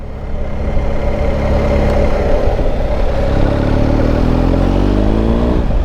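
A BMW R 1250 GS motorcycle engine roars loud and steady as the bike rides and accelerates, its rising harmonic pitch sweeping upward under continuous engine clatter, with no voices.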